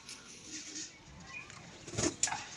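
A female pigeon flaps its wings briefly while held in the hand, with a soft burst of fluttering near the end over a quiet room.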